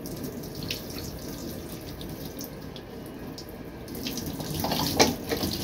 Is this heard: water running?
yes